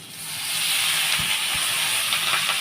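Leafy saag hits a hot pan of fried brinjal and bori, setting off a broad, steady sizzle and steamy hiss. A couple of low knocks from the pan sound under it, with no talking.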